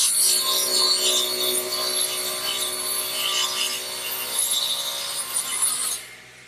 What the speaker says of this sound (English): since I have the radial arm here, I'm going to do it with that